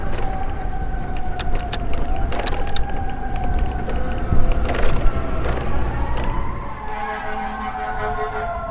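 A wailing fire engine siren sweeps up and down over busy Washington, D.C. street noise near Capitol Hill, loud and fairly close, with horn blasts mixed in.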